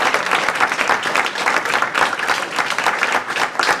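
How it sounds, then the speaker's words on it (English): An audience gives a standing ovation at a mental health awareness Day of Compassion event in St. Augustine, Florida: dense, steady clapping from many hands fills the room, loud and continuous throughout. "can we have a standing round of applause for Miss Lisa?"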